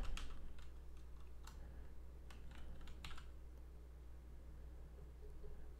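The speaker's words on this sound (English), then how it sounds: "now what we're going to type is" Light keystrokes on a Mac computer keyboard tap in short irregular bursts over a quiet background hum, close and soft, with no one talking.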